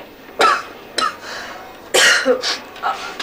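Several sharp, close coughs from someone ill with a fever, in short bursts, with brief pauses between them and no talking.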